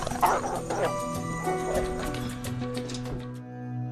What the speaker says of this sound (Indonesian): Di sini ia hampir digigit oleh guguk peliharaan Gator.